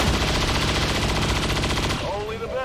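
Rapid gunfire from a chain shot in XCOM 2 hammers out continuously for about two seconds, loud and dense, before cutting off to a quieter tail with faint game sounds.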